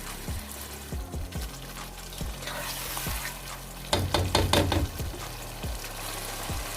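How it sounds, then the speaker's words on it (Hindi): Chicken being bhuna-fried in oil in a pot for a chicken bhindi dish, a steady close sizzle punctuated by repeated scraping stirs, with a louder burst of stirring clatter in the middle. "इसको हम मज़ीद 10 मिनट तक अच्छे से भूनेंगे।"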